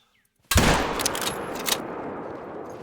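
A single loud hunting rifle shot at a moose in theHunter: Call of the Wild cracks suddenly out of silence, then a long rolling echo decays over the following seconds.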